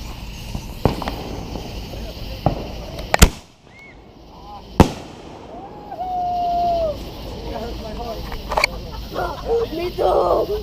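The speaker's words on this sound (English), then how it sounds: "Meet Mr. Big, 60-gram canister shell." 60-gram canister shell fireworks at a Fourth of July display, with several sharp distant bangs and crackles over outdoor noise, plus a whistling rise and people talking in the background.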